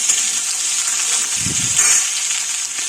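Potatoes frying in a pan for a drumstick curry: a loud, even hiss that runs steadily throughout with a brief low rumble midway.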